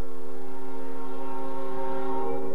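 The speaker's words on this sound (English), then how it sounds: "This whistle gets blown at every crossing with the bell." Locomotive whistle on the New Hampshire Northcoast Railroad sounding a long, steady multi-tone chord at a crossing, loud and continuous, no talk.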